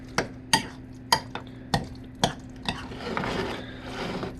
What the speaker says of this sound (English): All right, let's stir this up.